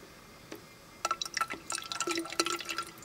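Water pouring into the narrow gap between the double stainless steel walls of a Kelly Kettle, a one-pint camp kettle, starting with a faint drip and then becoming a close, bright burble of splashes and trickling.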